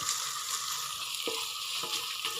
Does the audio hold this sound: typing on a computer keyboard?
no